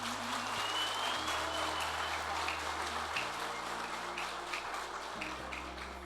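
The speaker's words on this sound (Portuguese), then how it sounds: "Palmas!" Applause from a congregation at a graduation church service, a steady, fairly distant wash of many hands clapping, with low sustained organ or keyboard tones shifting pitch underneath.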